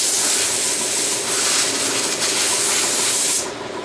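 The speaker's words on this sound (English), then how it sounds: "So now we just blow it out with the air gun." A compressed-air gun blasts dust and metal shavings out of a sandblasted metal piece: a loud, continuous, close hiss that fades slightly at the end.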